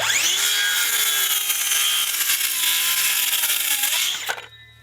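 A DeWalt cordless power saw on an older-technology battery whines steadily at close range as it crosscuts a board, the motor pitch sagging slightly under load before the cut finishes and the blade spins down.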